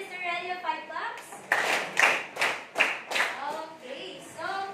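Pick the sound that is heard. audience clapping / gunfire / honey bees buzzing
audience clapping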